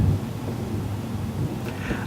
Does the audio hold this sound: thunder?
yes